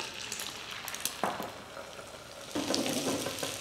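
Eggs go into hot oil for an omelette, with a close sizzle that flares up in two bursts as each spoonful lands, then settles into steady frying crackle with no talk.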